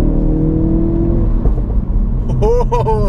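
Ford Focus RS engine revving hard, a loud close rumble that drops off before sharp pops and crackles near the end.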